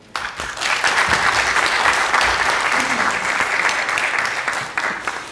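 A dense, steady burst of audience applause fills a forum lecture hall, rising quickly and holding loud and even for several seconds.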